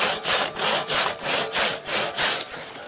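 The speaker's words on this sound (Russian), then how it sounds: "Пила хорошо пилит?" A hand saw cuts through wood in steady back-and-forth strokes, about seven loud rasping pulls in under three seconds, close up and with no talk over it.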